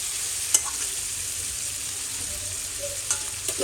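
Mint chicken curry with pepper powder being sautéed and stirred in a pan, a steady close sizzle with a few sharp utensil knocks against the pan, no voices.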